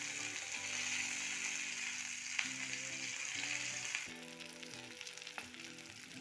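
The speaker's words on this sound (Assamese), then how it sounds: "বেঙেনাখিনি ভজা হৈ গৈছে" Brinjal frying in a pan for an Assamese brinjal and potato dish, a steady broadband sizzle running throughout under a prominent harmonic background tone, with a few sharp clicks of a utensil against the pan.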